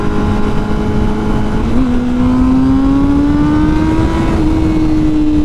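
Honda CBR1000RR-R Fireblade SP motorcycle launching hard, its engine holding a loud steady drone that climbs in pitch as it accelerates, with a brief dip at a gear change and constant wind rush.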